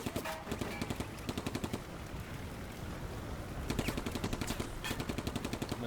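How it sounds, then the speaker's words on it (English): Machine gun fire in the World War II video game Combat Mission Barbarossa to Berlin rattles in fast, even bursts, fairly faint and distant, with one long burst, a pause, then more rapid bursts. "They are getting MG fired."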